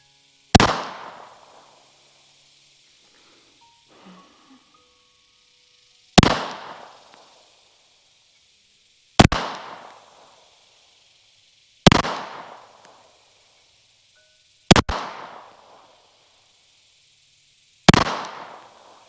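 A Stealth Arms Platypus pistol fires six sharp, loud single shots outdoors at uneven intervals a few seconds apart, each crack followed by a short decaying echo, with quiet gaps between.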